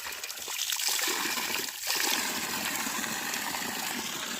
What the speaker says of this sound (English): Water from the source.